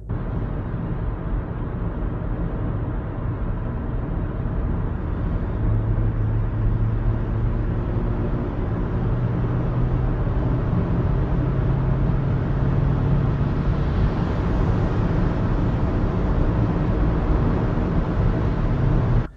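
Steady low road rumble and engine drone inside a moving 2020 Kia Niro plug-in hybrid, constant and fairly loud with no talking.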